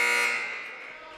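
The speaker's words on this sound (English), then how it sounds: "And you hear the buzzer go." A loud electronic buzzer blares at a high school basketball game. It sounds once and fades out over about a second.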